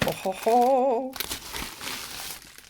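A plastic bag from a resin craft kit crinkles close to the microphone, with a brief voice at the start and scattered rustling crackles after.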